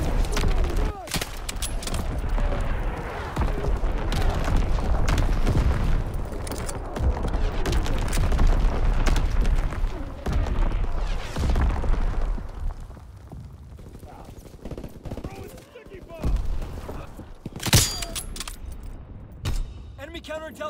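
Artillery barrage explosions in Call of Duty WWII, heard as a dense run of loud, overlapping booms and crackling blasts through the first twelve seconds. After that the bursts grow sparser and quieter, with one sharp blast near the end.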